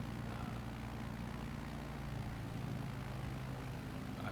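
A tailwheel airplane climbs away after takeoff in Microsoft Flight Simulator 2020, a steady, droning propeller engine roar that holds even and continuous throughout, with no speech.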